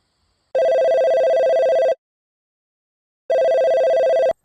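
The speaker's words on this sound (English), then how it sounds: "All right, dialing Bob again." A telephone rings back on an outgoing call, two identical electronic ring bursts, each lasting about a second and a half, separated by silence, loud and clear.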